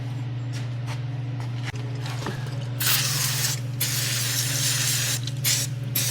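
Penetrating oil sprayed onto the axle parts of a 1996 Ford F350 4x4 dually, steady close hissing bursts over a low electrical hum, with a faint metallic clink partway through.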